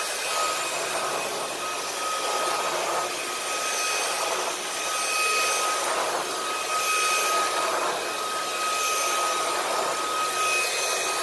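Puppyoo A9 cordless vacuum cleaner running steadily on carpet, a loud, continuous whirring hum with a high whine and slight swells as it is pushed back and forth, no voices.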